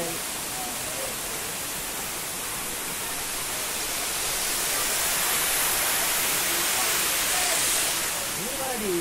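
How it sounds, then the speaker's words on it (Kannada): Sirimane Falls after a day of rain: a dense, continuous broadband roar of falling water, loud and close, with a faint voice briefly audible over it. "ಇದೇ ನಮ್ಮ ಸಿರಿಮನೆ, ಸಿರಿಮನೆ ಫಾಲ್ಸ್."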